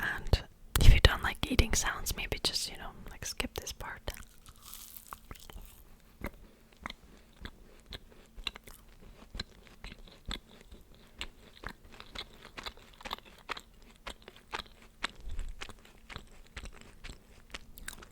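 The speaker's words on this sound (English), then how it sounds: "I prepared a coconut pastry, and I'm going to eat it" Someone bites into a coconut pastry and chews it close to the microphone: soft crunches and wet mastication in an irregular rhythm, with quiet whispering in places.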